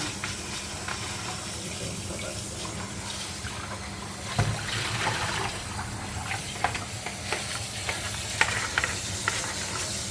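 Roasted pistachios are stirred in a pan while cooking, giving a continuous close sizzle with scattered light scrapes and clicks from the stirring, at an even level, with no voices.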